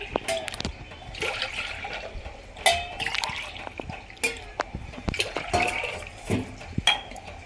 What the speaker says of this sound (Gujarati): આપણે દાળ બનાવવા માટે એની અંદર 3 ગ્લાસ પાણી નાખી દઈશું